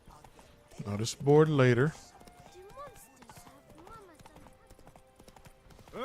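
Roach the horse gallops in The Witcher 3: Blood and Wine, hooves clip-clopping in a steady rhythm beneath a man's brief spoken line and other voices.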